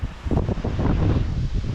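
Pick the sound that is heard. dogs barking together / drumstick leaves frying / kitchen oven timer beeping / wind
wind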